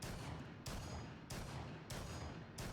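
M1014 shotgun firing in Rainbow Six Siege, booming shots spaced evenly about every half second, five blasts each trailing into a short decay, fairly faint with no talking.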